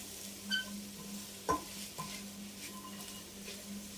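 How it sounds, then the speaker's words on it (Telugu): Beetroot with grated coconut frying in a pan: a soft, continuous sizzle under occasional sharp scrapes and clinks of a spoon stirring against the metal pan. "కొబ్బరి వేసుకున్నాక ఎక్కువసేపు వేయించక్కర్లేదు రెండు నిమిషాలు ఇలా వేయించుకుంటే చాలండి"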